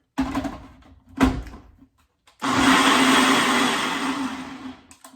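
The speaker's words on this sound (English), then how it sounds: "You put all of them together in your blender," A kitchen blender whirs loud and steady for several seconds, blending a green smoothie with almond milk or water, after a couple of short knocks and clatters, with no talking.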